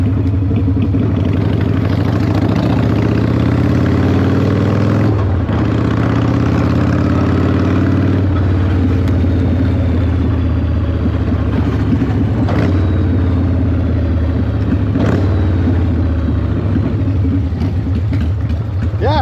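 A 1984 Harley-Davidson FLT Tour Glide ridden on the road after ignition coil work, its engine rumbling loudly and steadily throughout with wind buffeting and a few throttle swells, close to the rider.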